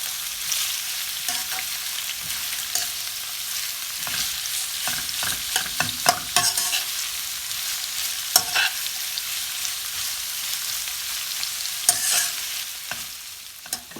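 Slit onions being stirred and fried in a pan, a steady sizzle with intermittent scraping and clinks of the spoon, close and alone.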